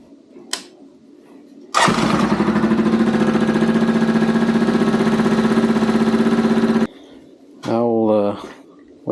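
A Honda Rincon TRX650 ATV engine cranks and fires, running loud and steady with a dense rumble for about five seconds before cutting off, followed by a second short burst of engine noise near the end.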